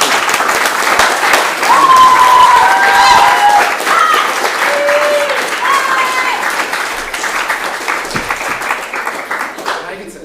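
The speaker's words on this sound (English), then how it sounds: "One more round of applause, thank you." A big crowd claps steadily and warmly, with whistles and a voice or two calling out over the applause before it tapers off at the end.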